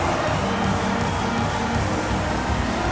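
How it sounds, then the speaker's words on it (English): A basketball arena crowd cheers for a youth dance squad at a Gilas Pilipinas versus Greece game, producing a steady, dense wash of cheering and applause with no single voice standing out. "Fans, please give a big round of applause for your youth dance squad"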